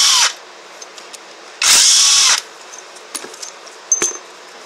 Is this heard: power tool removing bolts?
yes